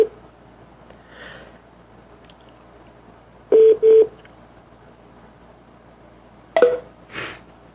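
A telephone number dialed on a phone keypad, a few distinct touch-tone beeps in short bursts separated by quiet pauses, with faint rustling and breathing around them.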